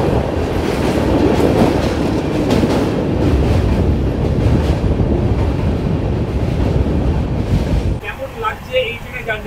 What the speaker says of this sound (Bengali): ট্রেন একটু এগিয়ে গিয়ে আর একবার করে প্যাসেঞ্জারকে ওঠা